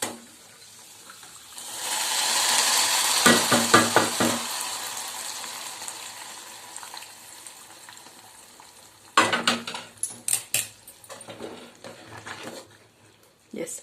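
Ghee-fried tempering hits boiling wheat payasam in bursts of sizzling hiss and crackle, with sharp spattering pops, a fading bubbling sizzle and a second round of crackling.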